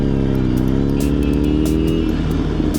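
A Suzuki GSX-R1000 motorcycle engine drones loudly and steadily up close, its deep harmonic tone shifting pitch as the revs change, with no talking.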